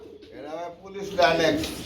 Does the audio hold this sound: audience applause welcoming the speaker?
no